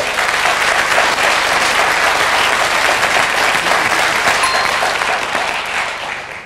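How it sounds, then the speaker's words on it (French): Sustained applause from a television quiz show studio audience, dense and steady throughout, tapering slightly toward the end. "applaudissements pour Patrick."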